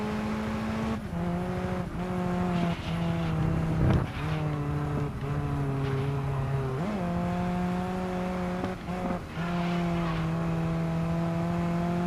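Lotus race car in GRID Legends, engine droning steadily and close with several sharp pitch drops at gear shifts, rising again after each one across the whole run.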